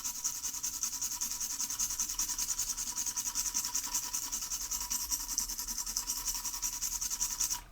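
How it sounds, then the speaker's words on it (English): A small brush scrubs corrosion off a Nintendo Switch Lite circuit board damaged by liquid, giving a continuous quiet, rapid scratchy rubbing that holds steady throughout. "So I'm gonna give that a little bit of a brushing"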